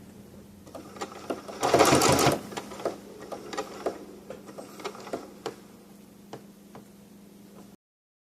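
A domestic sewing machine stitches blanket stitch binding on appliqué, with a loud burst of fast running near the start, then a string of sharp, spaced ticking stitches that slow and stop.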